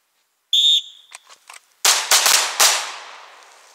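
A whistle blast followed by sharp gunfire on a shooting range during a qualification course, two rounds fired in quick succession with hard echoing cracks that ring out after the shrill whistle.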